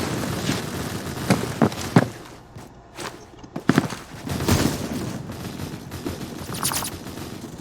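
A double-barrel shotgun fires in a video game, with several sharp shots, a couple of sudden quiet gaps and one heavier blast, surrounded by busy in-game noise and footsteps.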